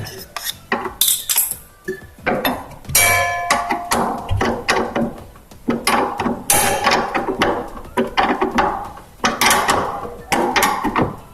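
Parts of a top-loading washing machine's drain fitting are tightened, a close, loud, fast ratcheting and clicking of metal and plastic that runs in quick bursts with brief pauses.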